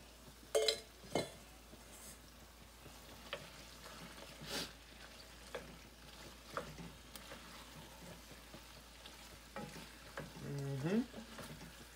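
Sausage frying in a large pot of food, a soft sizzle with occasional clinks of a utensil against the pot, steady and fairly quiet, with a few louder scraping bursts near the end.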